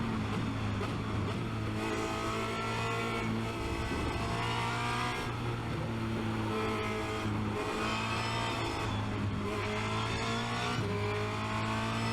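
A Formula Renault 2.0 race car engine is heard at Spa-Francorchamps, roaring loud and continuous from close by as it revs, shifts gears and accelerates through a lap.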